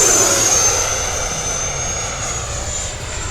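An E-flite F-16 80mm electric ducted-fan RC jet flies past with a steady, loud high-pitched whine and broad rushing air, holding constant throughout with no voices.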